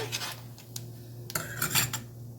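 A utensil scrapes and clinks against a pan while a chilli powder mixture is stirred for hotel-style tomato chutney, a few short close strokes over a faint background hum, with no voices.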